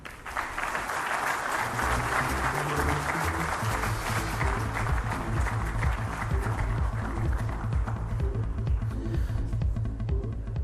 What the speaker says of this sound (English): I think that deserves a bigger round of applause.